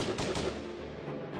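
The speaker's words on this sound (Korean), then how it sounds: "저 멀리에서 요란한 총소리가 울려 퍼지기 시작합니다." A burst of rapid gunfire sound effect, standing in for a battle of the 1894 Donghak peasant uprising in Korea; a quick run of loud shots in the first half second, then a dense rumbling tail.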